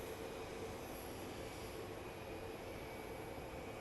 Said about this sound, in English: And that is one of our big planes that comes through here.